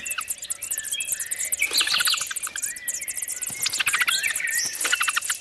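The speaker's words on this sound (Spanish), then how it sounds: "No hay cucos en este nido, sino 5 crías de petirrojo que reclaman a voz en grito su pitanza." Five European robin chicks in a nest beg loudly for food with rapid, shrill, high-pitched cheeping that rises in excited bursts, close and continuous with no voices.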